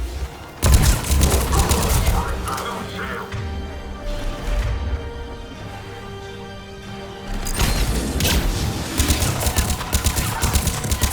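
Gunfire in the video game Mass Effect Legendary Edition: dense, loud bursts of rapid shots and impacts in a chaotic firefight, with a brief lull in the middle before heavy firing resumes.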